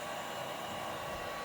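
A heat gun on a very low setting blowing onto a Dbrand skin on a Nintendo Switch OLED, a faint, steady airy whoosh held evenly throughout, with no talking.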